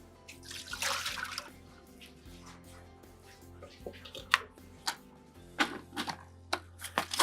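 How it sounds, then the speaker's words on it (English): Dirty water from a bowl used to wash lettuce is dumped out, heard as close splashing and pouring with scattered drips and clatter, loud at the start, followed by sharper intermittent splashes. "go on and just dump this dirty water."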